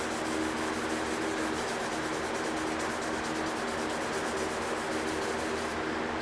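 Wet sandpaper rubbing along a plastic edge in steady, even strokes, a soft continuous rasp heard close and alone.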